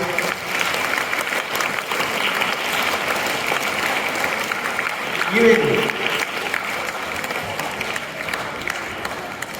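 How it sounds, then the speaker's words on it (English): An audience at a mock assembly at Kumar CBSE School claps steadily in a dense, continuous round of applause that holds at an even level for several seconds. "Give a big round of applause"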